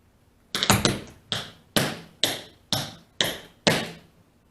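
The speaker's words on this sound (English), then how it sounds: "So it's going to be a left cramp roll, left flap, and then a right shuffle ball change" Tap dance steps on a hard floor: a left cramp roll, left flap and right shuffle ball change, heard as seven crisp, close metallic taps in an uneven rhythm, some in quick pairs, each ringing briefly, with no talking.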